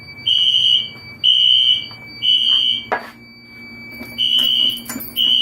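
A new smoke detector sounds off with a loud, piercing electronic beep in repeated pulses, a steady high tone behind it and a sharp clatter partway through.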